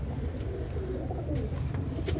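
Pigeons coo softly and repeatedly, low throaty burbling over a steady outdoor background.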